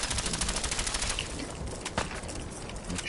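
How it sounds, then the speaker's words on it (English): Rapid automatic fire from an explosive SMG in Fallout 4, a fast rattling burst with a sharper crack near the two-second mark, moderately quiet and steady throughout. "Let's use our explosive SMG from range first"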